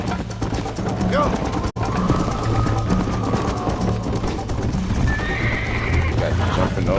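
A horse whinnies over hoofbeats and background game sounds, with a brief dropout partway through.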